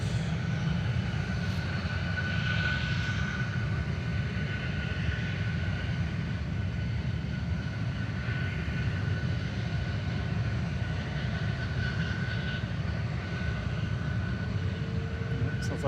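Engines of a Virgin airliner spool up at Manchester Airport, a continuous heavy roar with a faint high whine, steady and fairly distant throughout.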